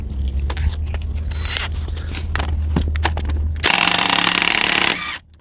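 Short bursts from a small cordless DeWalt impact wrench trying to loosen rear brake caliper bolts on a 2004 GMC Sierra, ending in a loud sustained hammering rattle nearby before it stops.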